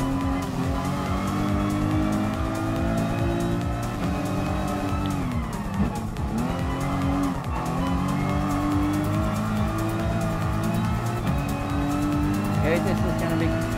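Racing video game cars roar continuously with engine pitch sweeping up and down through gear changes and cornering, tires squealing in a few spots, while a player talks over the action.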